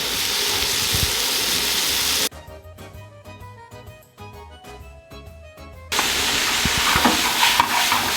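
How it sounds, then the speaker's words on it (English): Food sizzles and hisses in a frying pan, sautéed for stuffed cannelloni, loud and steady, broken by a few seconds of quieter clinking and stirring before the sizzle returns, with no talking. "So once you make a nice saute like that"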